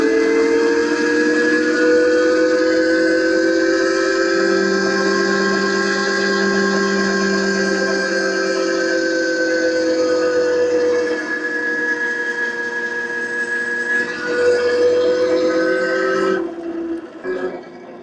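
The Eilleo SpaceWalk X01 electric dirt bike climbs a hill in mode 3 with a sustained, high whining motor tone that shifts slightly in pitch. The whine holds steady, then breaks up and fades near the end.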